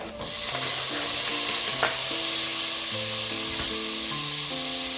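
Cut ripe tomato frying with well-browned onion in a pan for Mangalorean marwai (clam) pundi, a loud continuous sizzle with occasional stirring taps and a low background hum, no speech.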